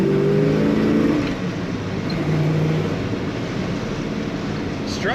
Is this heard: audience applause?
no